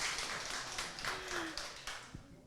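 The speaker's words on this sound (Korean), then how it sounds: "박수 한번 주세요." An audience at a village residents' general assembly claps in a steady, moderately loud round of applause with no talking over it, the individual claps blending into a continuous patter.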